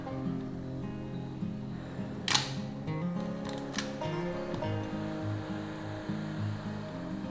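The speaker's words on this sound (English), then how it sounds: "Continue to wind the film to one level and depress the shutter release button until the frame counter shows 1." A 35mm film camera is wound on and its shutter released, giving a few short mechanical clicks and ratchet sounds over a steady background tone, with no one speaking.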